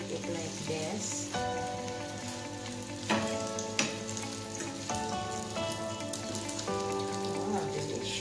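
Cheese breakfast frying in a pan, a steady close sizzle and crackle throughout with occasional soft scraping as it is turned, no talking.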